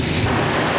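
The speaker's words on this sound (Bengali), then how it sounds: "দেখুন এত জোরে জোরে বৃষ্টি হচ্ছে" Heavy rain pouring down in a dense, continuous roar, loud and close.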